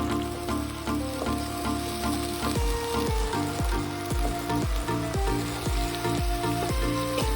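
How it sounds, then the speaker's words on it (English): Ground masala paste sizzling in hot oil in a pan while being stirred, a loud and constant crackle over a rhythmic tonal backing with regular repeating beats. "In a pan, heat some oil and add the ground paste and stir the mixture"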